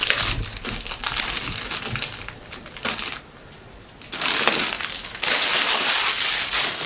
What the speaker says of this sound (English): That's just some packing material.